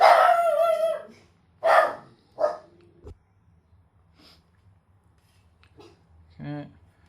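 Dogs indoors bark at strangers outside: a few loud, close barks and yelps in quick bursts at the start, then quieter scattered sounds and another bark near the end.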